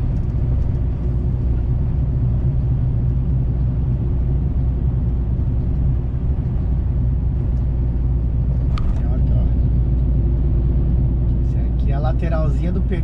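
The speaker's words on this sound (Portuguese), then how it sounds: "Lateralzinha do pneu pegou dentro do buraco." A vehicle drives a rough, pothole-filled road on the Bahia–Minas Gerais border with a constant loud engine rumble and road noise, a few knocks and rattles, and someone talking over it.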